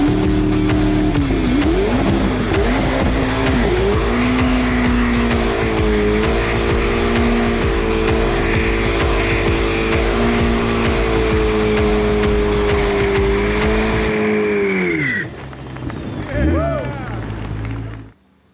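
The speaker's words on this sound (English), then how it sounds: "I think what we need to do now is a burnout." Chevrolet Corvette ZR1 doing a burnout, engine held at a loud steady high rev with squealing tires for about fifteen seconds, then revs dropping and a few short throttle blips before cutting off; voices shout over it.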